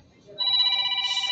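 A telephone ringtone starts after a brief quiet moment and continues as a clear, loud, steady electronic tone with layered harmonics, close by and heard alone.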